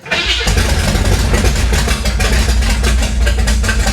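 A flood-damaged 1966 Chevrolet Impala's engine catches on the starter and fires up at once, then settles into a loud, steady, rumbling idle close by with no talk.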